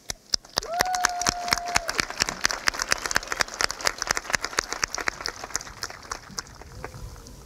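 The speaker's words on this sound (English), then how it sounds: "let us take this moment to show our appreciation for our families and for everyone in the Cedar Shoals family with a round of applause" Graduation ceremony crowd at a high school giving a round of applause, with scattered distinct claps over a steady background and a brief tone sounding early.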